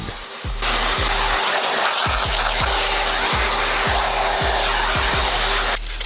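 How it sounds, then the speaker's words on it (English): A loud, steady whine of a vacuum cleaner runs close by after switching on, vacuuming the car seats of a BMW 1 Series, with rhythmic low thumps underneath, then cuts off at the end. "Begin with giving them a detailed vacuum"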